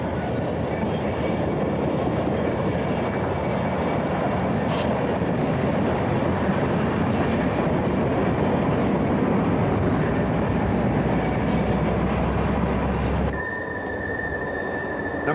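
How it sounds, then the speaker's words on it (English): Westbound freight train 89 on the Manassas-Harrisonburg line in Virginia, powered by GP38 diesel 5054 and GP35 diesel 2706, rolls past with a continuous, even roar of engines and wheels. The sound eases slightly near the end. "train 89 westbound is powered by GP38 number 5054 and GP35 number"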